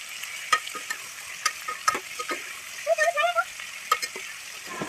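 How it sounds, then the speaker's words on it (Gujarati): A ladle stirs cluster bean curry in a pan, with repeated scraping knocks and a soft sizzle underneath, close and steady, with a few brief wet bubbling pops partway through. "તો આપણે થોડી વાર હલાવશું, કારણ કે નીચે ચોટી ન જાય."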